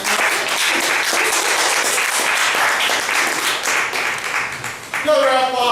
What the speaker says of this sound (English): Another applause for Joe.